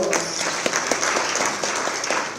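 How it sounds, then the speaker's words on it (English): Audience applause at a University of Limpopo 65th anniversary celebration, a steady dense wash of clapping from a crowd filling the whole moment without speech. "May we also just give him a round of applause."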